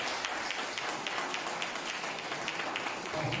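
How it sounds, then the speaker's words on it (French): An audience at a women's political party meeting in France applauds with fairly quiet, continuous clapping that holds at an even level. "Je vais faire les applaudissements."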